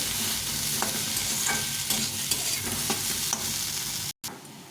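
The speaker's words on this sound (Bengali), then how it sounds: "আলুগুলো একটু মেশ করে দেবো" Boiled potatoes are mashed and stirred in a pan for chickpea ghugni, giving a continuous scraping, squelching sound with soft regular taps from the utensil, then a brief cut near the end.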